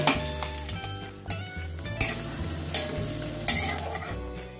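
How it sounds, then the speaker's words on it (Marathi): Onion sautéing in hot oil in a pan gives a continuous close sizzle, with regular spoon strokes scraping and clinking against the metal roughly every second. "आता आपण कांदा टाकूया, तेल तापले, कांदा परतून घेऊया छान गुलाबी कलर येईपर्यंत"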